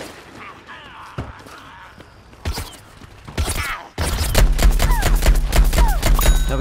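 Weapon fire in the Plants vs Zombies Garden Warfare shooter, a Camo Ranger's primary gun, starting with sparse creaks and clicks, then a loud, steady burst of rapid repeated shots over continuous game noise.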